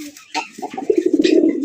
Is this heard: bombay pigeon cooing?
yes